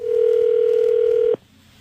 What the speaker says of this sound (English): they get the wife on the phone here